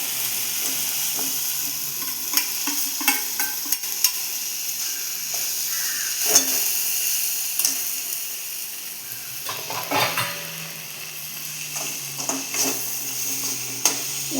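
Crushed coconut paste for ponnanganni greens thoran sizzles and fries in a pan, a steady close hiss broken by frequent scraping and tapping stirring strokes.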